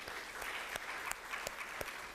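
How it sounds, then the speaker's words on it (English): A community audience at a senior commission gathering applauds, a fairly faint patter of scattered hand claps with a few sharper individual claps standing out, no voices. "Let's give Mayor Levin and the presenters another round of applause"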